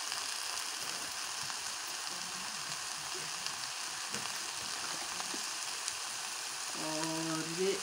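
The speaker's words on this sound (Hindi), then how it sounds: "हल्का सा मैं इसे भूनूंगी" Chicken and vegetables fry lightly in a pan with a steady, soft sizzle that runs throughout at low volume, with a few faint stirring or utensil sounds near the end.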